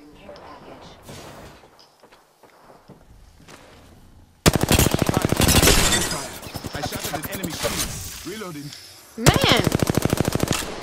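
Gunfire in the video game Apex Legends: rapid, loud automatic bursts hammer in two long strings, following quieter scattered shots and a player's brief exclamation.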